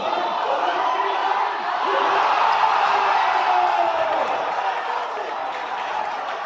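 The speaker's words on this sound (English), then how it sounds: "You gotta love the energy of the crowd here." A crowd at the Classic Tetris World Championship 2026 keeps up a loud, steady roar of cheering and chatter that swells slightly in the middle, with a voice talking over it.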